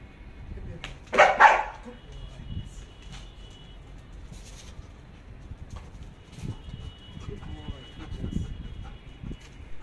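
A trained dog barks on command, one loud sharp bark burst early, followed by quieter background noise with faint birds and soft voices speaking Arabic.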